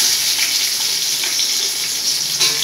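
Two sliced onions sizzle steadily in a pan for chicken dum biryani, a continuous close hiss of frying with no voices.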